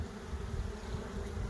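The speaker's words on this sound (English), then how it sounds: "Chase the bees off them first so we can see." Bees buzz steadily around hive boxes in an outdoor apiary, a dense, continuous hum close by with no voices.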